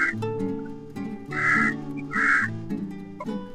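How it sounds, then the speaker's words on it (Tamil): Two loud, harsh caws ring out in quick succession from a nearby crow, with a low background hum underneath. "காகம்"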